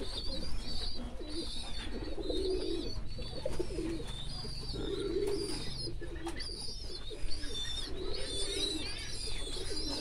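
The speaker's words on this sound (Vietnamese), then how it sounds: "đây mới cặp chim con" Ornamental pigeons in a pigeon loft coo in repeated soft, low rolling phrases, with faint higher chirps and chatter from other birds throughout.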